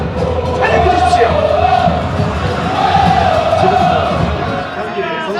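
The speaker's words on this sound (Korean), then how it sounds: "우리 선수를 뜨거운 박수와 함성으로 환영해 주십시오" Large football stadium crowd roaring and cheering continuously as FC Anyang players walk onto the pitch, a dense sustained wall of voices with rising shouts.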